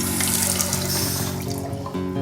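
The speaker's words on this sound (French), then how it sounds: "donc vous pouvez ouvrir le robinet" Water streams steadily from a hotel washbasin faucet fitted with an aerator that mixes air into the flow, producing a close, even hiss and splash with no speech.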